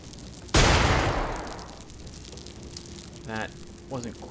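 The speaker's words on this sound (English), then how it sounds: "No, I'm gonna I'm gonna throw a flashbang." A flashbang grenade in the Xenonauts strategy game goes off as a single sharp, loud blast whose noisy tail fades over about a second, followed by quieter game effects.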